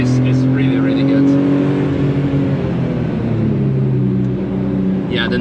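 A Porsche 993 project car on track, its engine droning and rising as it is pushed through corners, loud inside the cabin, with the driver talking over it.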